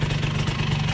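A Suzuki Satria Hiu motorcycle engine idles roughly, a loud, close, steady low drone with a slightly uneven, grainy pulse.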